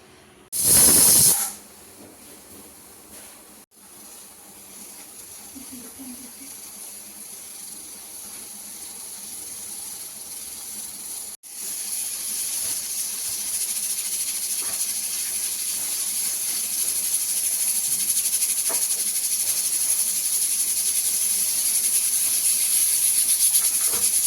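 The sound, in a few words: pressure cooker hissing steam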